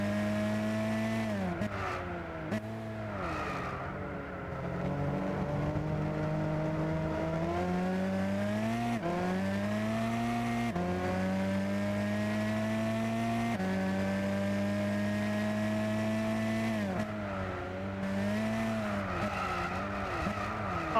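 Race car engine in Gran Turismo 6, loud and continuous, with harmonic pitch sweeps rising and falling into repeated wah-like swells and short dips as the car slides and recovers, with no talk over it.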